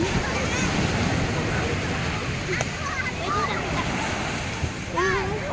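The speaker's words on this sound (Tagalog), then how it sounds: "Ang grabe ng alon." Big ocean waves at Tiwitiwi Beach in Albay roar in a continuous loud wash, with wind over the microphone and voices speaking briefly above the surf.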